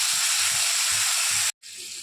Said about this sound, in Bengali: এবার এতে আমি ধনে গুঁড়ো, জিরে গুঁড়ো, অল্প পরিমাণে লঙ্কা গুঁড়ো আর হলুদ গুঁড়ো দিয়ে একটু কষিয়ে নেব আলুটাকে।